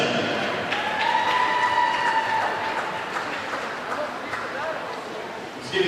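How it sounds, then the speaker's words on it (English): Applause for the winners at a swimming meet finals, a spread-out clatter of clapping running under an announcer's amplified voice in a large pool hall. "Give these gentlemen a round of applause."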